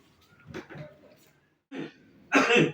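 Several harsh coughs or throat-clearing bursts from a person indoors, close and fairly loud, coming in separate clusters with short quiet gaps between them.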